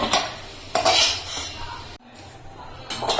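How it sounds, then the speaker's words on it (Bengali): Fried onions being scooped out of a frying pan, with repeated scraping and clinking of a metal spatula against the pan, close and fairly loud, in a few bursts with a brief pause. "পেঁয়াজটা আমার ভাজা হয়ে গেছে এখন আমি তুলে নিচ্ছি"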